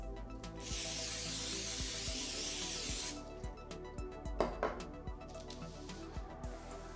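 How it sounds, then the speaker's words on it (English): Olive oil cooking spray misted over sliced sweet potato chips: one long hissing burst of about two and a half seconds, then light clicks, taps and rustling as the can and slices are handled nearby. "use olive oil cooking spray to lightly spray my potato"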